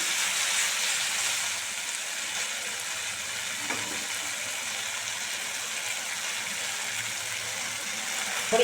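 Potatoes fry in a pan for a fish curry with a splash of water added, giving a steady, close sizzling hiss that holds evenly throughout with no talking.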